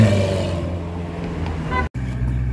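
A Ferrari F8 fitted with a Novitec exhaust roars loudly and close by, a steady deep engine drone that cuts out abruptly for a split second near the end before resuming.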